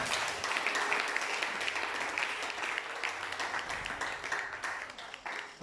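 A church congregation applauds steadily throughout, a dense, continuous patter of many hands clapping at fairly even loudness, with no voices standing out.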